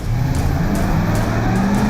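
The Batmobile, a very wide car on huge wheels, drives past loudly with a steady engine roar and repeated revving surges, close and continuous, without any voices.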